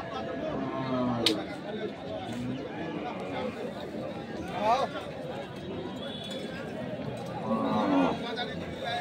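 Bulls low a few times amid a busy crowd chattering and talking nearby at a cattle market in Rangpur, the moos rising briefly above the steady background noise.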